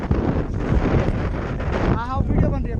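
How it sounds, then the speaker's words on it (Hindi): Wind buffets the microphone during river rafting on the Indus and Zanskar rivers near Leh, Ladakh, a steady loud roar with rushing water, while people talk over it. "उसमें हवा चल रहा है ना, हम लोग फिर पुल पे चले जाएंगे हवा में"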